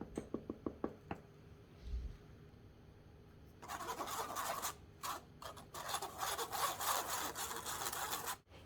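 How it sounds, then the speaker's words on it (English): Flour, baking soda, salt and instant coffee being sifted together for a chocolate cake, a soft continuous rustling scrape that starts after a few sharp taps and runs steadily in bursts close by, with no talk. "And I'm going to sift this together"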